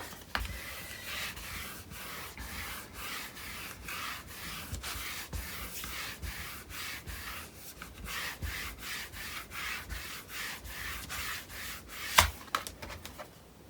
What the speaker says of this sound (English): and we burnish this down